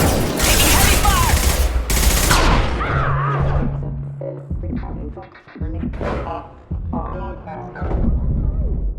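Heavy gunfire from Mass Effect 2: dense, loud bursts of automatic fire and booming impacts that fill the first seconds, then continue more sporadically under a tense game soundtrack.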